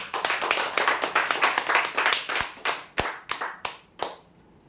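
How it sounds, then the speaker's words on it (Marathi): A lottery draw audience claps for the winner of a four-by-six bet prize. A dense burst of applause from many hands thins out into a few scattered, separate claps that trail off near the end. "जोरदार टाळ्या त्यांच्या"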